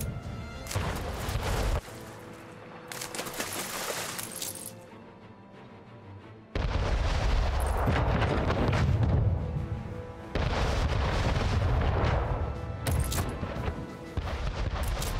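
Cannon tower artillery fire in the strategy game Anno 1800, a dense barrage of booming shots and crashes that surges in loud waves, dipping briefly before swelling again.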